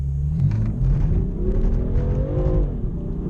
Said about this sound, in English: as you can hear there, the wheels are spinning just from putting my foot down